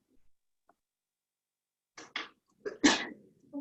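In a math lecture, a sharp sneeze bursts out after a quiet stretch, followed by a couple of softer breathy noises close by.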